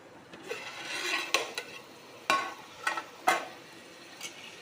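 Potato and chana dal cooking in hot oil with turmeric, chili powder and salt, stirred in a pan: soft scraping stirs with a few sharper utensil knocks over a low sizzle, close by.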